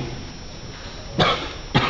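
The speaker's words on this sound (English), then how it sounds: "he's coughing out." A man coughs twice in a room, with two short, sharp bursts about half a second apart over a steady background hum.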